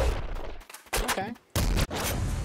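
Gunfire from the video game Nuclear Throne: several quick bursts of loud shots and booms, separated by brief gaps, with a warbling electronic effect in the middle.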